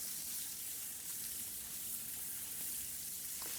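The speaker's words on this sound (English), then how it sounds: "I'm going to add my onions. And we'll give it a good stir." Onions frying in a pan for Jamaican patties give a steady, quiet sizzle that runs unbroken throughout, with a faint scrape of stirring near the end; no one speaks.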